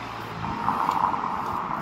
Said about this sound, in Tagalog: Bilis ang sasakyan.